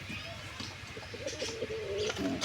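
Pigeons in a breeding coop give soft, repeated cooing calls at close range, with low rumbling coos and faint shuffling throughout; no one speaks.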